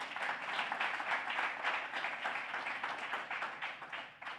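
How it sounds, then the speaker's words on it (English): An audience at a documentary screening about Dr. Elders applauds Dr. Weedn, giving a steady, dense round of clapping that stays fairly quiet and even throughout, tapering slightly at the end, with no voices over it. "Let's give Dr. Weedn another round of applause."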